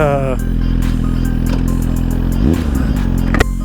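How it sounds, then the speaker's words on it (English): A Suzuki GSX-R1000 sportbike engine idles loud and close with a steady, mean-sounding rumble, a brief revving swell near the end. "definitely the bike sounded good, sounded mean Gene"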